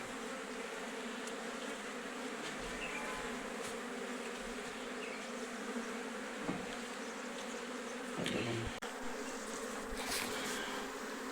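A large swarm of honey bees hums steadily around a wooden hive box, a dense, continuous buzz that stays even throughout, with a few louder passes of single bees flying close by.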